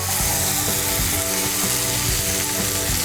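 Tomato paste fries in a pan with a constant dense sizzle and crackle, close and loud, with faint stirring scrapes and no voices.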